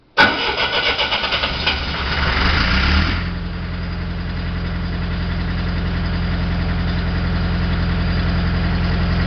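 A 1985 Miller 300 amp diesel welder cranks over for about three seconds, then catches and settles into a steady, loud, close diesel idle.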